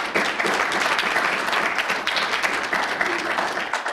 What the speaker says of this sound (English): You should always hold applause till the thing's over with, so you know whether you really want to applaud or not